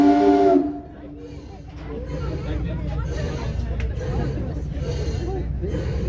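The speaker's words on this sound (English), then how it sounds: "There she is. We're going to say hello on our whistle." A steamboat whistle on Lake George sounds a short, strong tonal blast at the very start, then cuts off, leaving a steady hubbub of passengers talking and engine noise.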